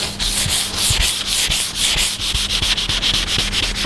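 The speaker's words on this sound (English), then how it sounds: "taking off the nibs in the direction of the grain" Light denibbing of wood with sandpaper along the grain before French polishing: close, loud, rhythmic rasping strokes in quick back-and-forth succession, with no voices.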